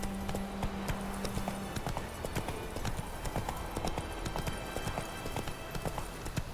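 Roach, a horse in The Witcher 3, gallops with steady, rapid clip-clop hoofbeats throughout, close and prominent over faint background game sound.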